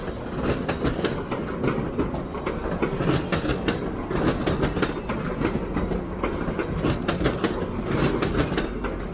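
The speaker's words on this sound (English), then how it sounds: "A Via train and a GO train." Via and GO passenger trains rumbling past on rails at Toronto's Union Station, a steady loud roar with rhythmic clickety-clack of wheels over track joints throughout, no voices.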